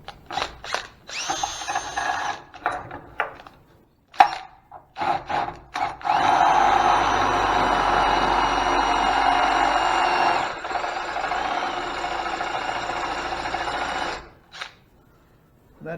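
A power drill whines steadily for several seconds as it bores into aluminum, preceded by short start-stop bursts and handling clatter.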